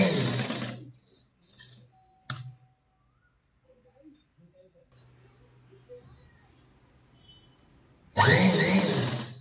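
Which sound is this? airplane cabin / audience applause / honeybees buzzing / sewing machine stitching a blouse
sewing machine stitching a blouse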